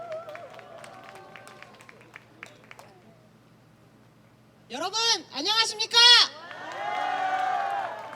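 A man greets the crowd at an outdoor political rally launching a new youth-founded party. The audience then erupts in loud cheers and whoops, followed by a sustained wash of applause and crowd noise.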